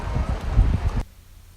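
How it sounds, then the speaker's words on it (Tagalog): Strong typhoon wind from Typhoon Rolly in Bicol roars and buffets the microphone in a dense rush of noise, then cuts off abruptly after about a second. "Kasi sobrang lakas talaga yung hangin guys."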